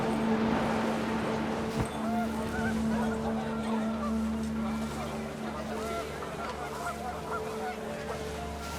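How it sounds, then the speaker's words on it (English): Panicked geese honk in the game What Remains of Edith Finch as the wind picks up, a scattered flurry of calls over a windy, watery background with narration running alongside. "panicked geese appeared and quickly went"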